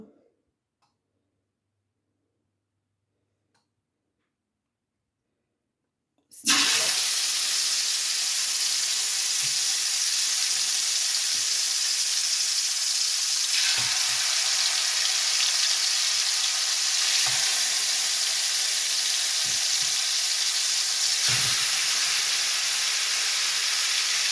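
Raw chicken pieces hit two tablespoons of hot oil in a frying pan for spicy tandoori chicken, a sudden loud sizzle after silence that settles into a steady, close hiss with faint crackles.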